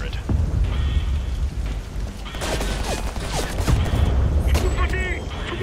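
Turret gunfire in Homefront: The Revolution, rapid crackling bursts and booms layered over a rumbling battle din, with scattered sharp impacts growing busier toward the end.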